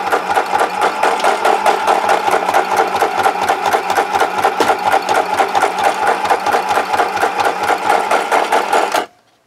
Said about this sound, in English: I'm going to stitch it down just below this eyelet hole in the tag.